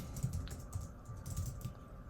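Code is typed on a computer keyboard, giving a quick, close run of light key clicks with a steady rhythm and faint background hum.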